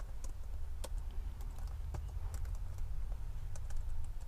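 Fast, irregular key clicks from a computer keyboard as HTML and CSS code is typed for an image slider, close and steady over a low background hum.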